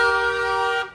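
A single steady vehicle horn blares loud and close for about a second before cutting off, on a busy market street in Himachal Pradesh.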